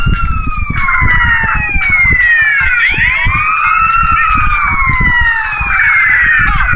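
Several overlapping police sirens in GTA wail and sweep up and down loudly, with thumping game noise and impacts underneath.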